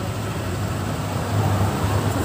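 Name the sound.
vehicle passing on road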